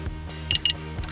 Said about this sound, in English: you press the lock button, it'll beep, unlock button, it'll beep twice